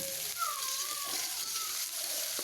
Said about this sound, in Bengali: তেল দিয়ে আমি এটাকে ভাজা ভাজা করে নিব।